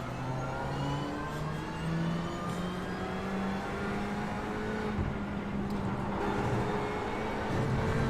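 Racing car engines in the iRacing sim, several cars revving and shifting with rising and falling engine tones, one passing close, loud and continuous with no talk.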